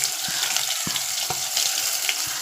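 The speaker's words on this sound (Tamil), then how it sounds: "வெங்காயத்தை வெட்டி வச்சதையே போட்டுக்குவோம். பச்சை மிளகாயும் போட்டுக்குவோம்." Chopped onions and green chillies frying in hot oil give a close, continuous crackling sizzle, punctuated by a few brief stirring clicks.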